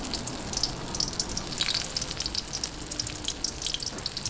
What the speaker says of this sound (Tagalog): Okay, prito na po tayo.